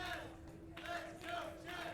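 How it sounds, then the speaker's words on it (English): A baseball crowd chanting "Let's Go Cheds" in a steady, rhythmic call heard from a distance. It is fairly faint and repeats in even pulses. "A big "Let's Go Cheds" chant here for the crowd who has stuck this one out."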